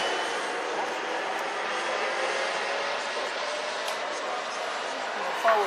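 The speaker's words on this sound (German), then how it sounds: "zusätzlich gestartet jetzt eine Tucano, ein Turboprop-Flugzeug" A large radio-controlled T-27 Tucano turboprop model, 2.70 m wingspan and 15 kg, takes off at an outdoor model jet show, producing a steady broadband turbine roar and propeller whoosh that stays constant and moderately loud.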